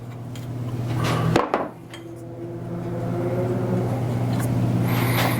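A single sharp hammer tap on the edge of a wooden work table rings out once over a steady low hum, followed by a quieter background drone.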